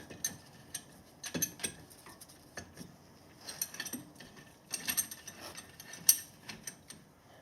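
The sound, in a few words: pushing back Toyota Camry front brake caliper piston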